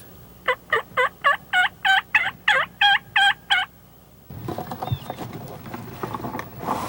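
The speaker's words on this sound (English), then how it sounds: "the gobblers were active" A wild turkey gobbler gobbling in spring woods during a hunt, about ten rapid, loud, rattling gobble pulses close by, then quieter rustling and faint ambient noise afterward.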